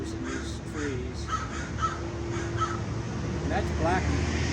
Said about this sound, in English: There's always a lot of crows in these trees.